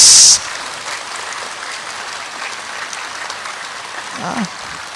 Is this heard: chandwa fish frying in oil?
no